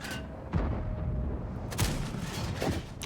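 Tank cannon fire in a video game, several heavy booming shots spaced about a second apart over rumbling battlefield noise.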